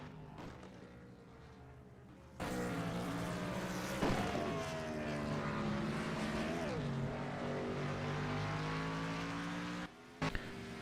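NASCAR race cars roaring around the Daytona road course in a racing video game, a loud sustained engine drone with pitch sweeps as cars shift and brake, briefly cutting out near the end.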